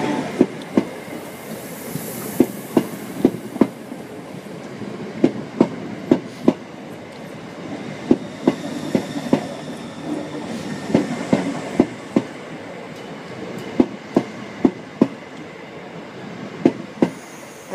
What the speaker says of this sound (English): Ready to depart now is going to be the 10:30 Greater Anglia service to London Liverpool Street.